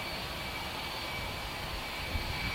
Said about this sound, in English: You can hear another one behind me taxiing out